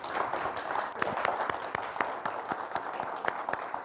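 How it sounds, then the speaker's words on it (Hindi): A studio audience claps in quick, scattered applause to welcome a guest expert on a television show, fairly faint and continuous for a few seconds. "तो जोरदार तालियों के साथ स्वागत कीजिएगा सोनिया जी का"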